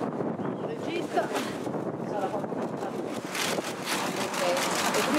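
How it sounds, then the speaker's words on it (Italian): Gusty wind buffets an outdoor microphone at a photocall, a steady rumbling roar that swells louder toward the end while people talk underneath. "È tutto il vento adesso."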